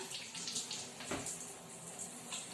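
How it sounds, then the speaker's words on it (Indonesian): Water runs steadily from a tap for hand washing, a soft continuous hiss and splash close by, with a brief louder splash partway through and no talk. "Cucilah tangan dengan prinsip air mengalir."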